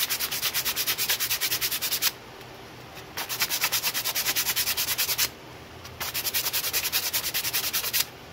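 Coarse 60-grit sandpaper rubbing over a carbon fiber grip in steady rapid strokes, close and loud, in three bursts separated by short pauses.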